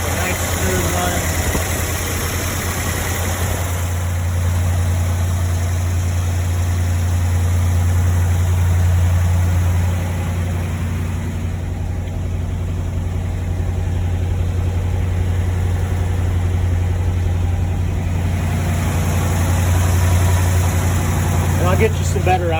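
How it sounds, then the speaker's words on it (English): A 1957 Ford Thunderbird engine holds a high idle after a cold start, a steady, smooth low rumble running throughout with constant loudness, and a voice talks over it. "This is a cold start. It's holding high idle."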